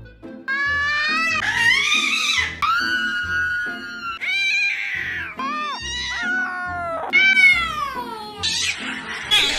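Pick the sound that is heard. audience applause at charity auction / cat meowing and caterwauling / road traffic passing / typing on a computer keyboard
cat meowing and caterwauling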